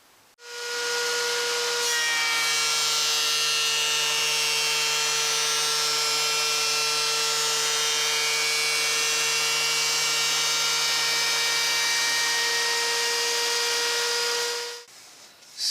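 Loud, steady whine of a power tool running along a jig, shaving an eighth of an inch off a wooden guitar neck blank, a continuous tonal cutting drone that starts abruptly and stops near the end.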